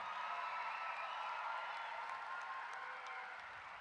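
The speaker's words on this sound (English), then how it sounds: "Give them a big round of applause." Graduation crowd at the 2023 Stony Point ceremony applauds its graduates, a faint, distant wash of clapping that holds steady and tapers slightly toward the end.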